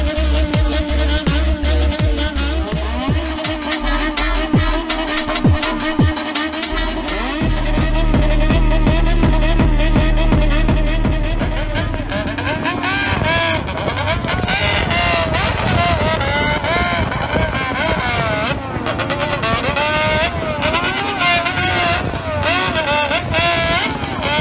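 Bosozoku-style motorcycle engines rev in rhythmic bursts, loud and close, with pitch sweeping up and down to mimic the Doraemon theme tune, continuous throughout.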